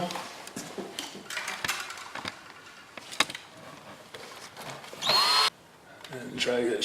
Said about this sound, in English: Find my drill.